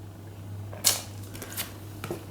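Tarot cards handled by hand, a few brief papery snaps and rustles, close and fairly quiet, over a low steady hum.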